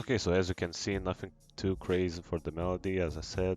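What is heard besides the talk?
No distinct noise like a dog, phone or traffic.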